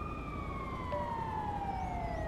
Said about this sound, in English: That'd be the ambulance coming to sort that woman out